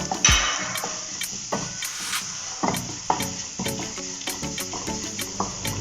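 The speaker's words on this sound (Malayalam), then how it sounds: "നന്നായിട്ട് ഫ്രൈ ചെയ്തെടുക്കുന്നു." Grated coconut mixture for jackfruit thoran frying in a pan, with a soft sizzle beneath repeated scraping and clacking stirring strokes at an uneven, steady pace.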